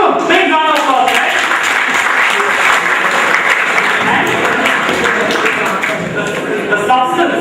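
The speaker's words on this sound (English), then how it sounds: "Okay, Samir Jena, give him a big round of applause, right?" Applause fills a quiz hall as the audience claps for a contestant, a dense, sustained wash of many hands at steady volume throughout, with scattered voices mixed in.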